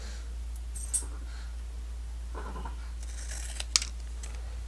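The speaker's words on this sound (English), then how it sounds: "I'm just going to line these two up and cut them the same." Scissors cut through paper junk mail envelopes in a few short, crisp snips against a quiet room hum.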